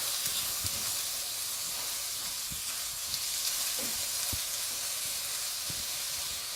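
Chicken noodles tossed in a hot pan with soy sauce and chili garlic sauce, a steady close hiss of frying with occasional stirring scrapes and clicks, no talk.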